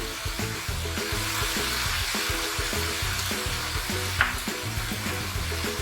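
Shiitake stock splashed into a hot pan of vegetables for a vegetarian shepherd's pie, giving a steady, loud sizzle and frying hiss throughout, with stirring and a sharp spike partway through; no talking.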